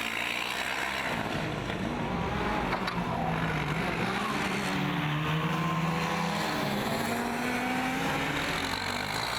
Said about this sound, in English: I hear the engine running, so I expect him to come to the green flag soon.